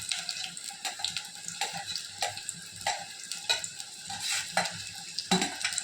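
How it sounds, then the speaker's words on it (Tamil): Onions go into hot oil in a home kitchen and sizzle steadily while a spoon scrapes and stirs them in a rhythmic pattern, close and fairly loud, with no voices. "எண்ணெய் சூடாயிடுச்சு. இப்போ வெங்காயத்தை சேர்க்கணும்."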